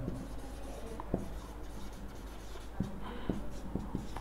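Chalk or pen tapping and scratching on a board during a Fourier series lecture, several faint scattered taps over steady room noise.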